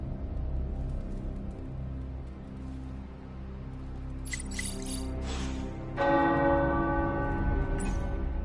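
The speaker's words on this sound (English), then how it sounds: "Tower bells are ringing." Tower church bells peal in the video game Marvel Midnight Suns, sounding over a steady musical background and growing louder and brighter in the second half.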